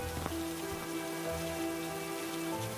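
Steady rain pours down around a labourer's brick-and-cement work site, a dense continuous hiss with faint tonal music lines running beneath it and no voices.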